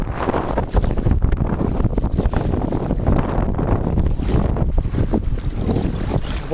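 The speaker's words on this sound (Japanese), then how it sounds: "ちょっと北風と寒い寒い北風が相当強くなってまいりました。" Strong cold north wind at sea off Chojagasaki near Hayama, during winter kayak fishing: a constant loud buffeting roar across the microphone with gusty surges and water slapping around the boat, and no voices.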